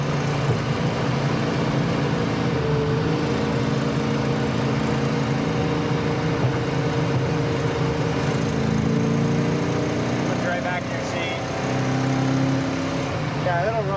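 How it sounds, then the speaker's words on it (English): The engine of a 1970 Dodge Challenger runs steadily at a classic car dealership, its continuous rumble holding close and constant while people talk over it. "Got a lot of power, don't it? Yeah, engine runs great."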